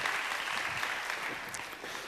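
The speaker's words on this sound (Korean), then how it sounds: "하나님께 영광의 박수 함께 올려드리겠습니다." A church youth service congregation claps together in a dense, even patter of applause that fills the room and stays steady throughout.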